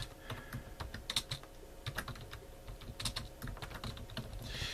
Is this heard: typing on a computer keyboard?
yes